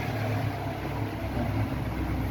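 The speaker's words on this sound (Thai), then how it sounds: "เสียงรถไถวิ่งผ่านบ้าน" A tractor driving past a house gives a steady, low engine rumble at moderate distance, an even mechanical hum with no voices over it.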